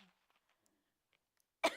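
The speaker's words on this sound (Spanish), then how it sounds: "Hoy ustedes me van a tener que soportar con la tos." A single short, sharp cough from a woman with a sore throat, sudden and fairly loud after near silence, in a church service setting.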